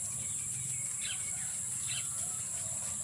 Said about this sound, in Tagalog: mga ibon grabe kadami